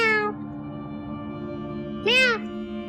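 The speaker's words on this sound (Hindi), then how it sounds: "अबे बिल्ली है बिल्ली।" A cat meows twice, a brief cry followed after a pause by a louder, rising-and-falling meow, close by over a steady low hum in an indoor scene.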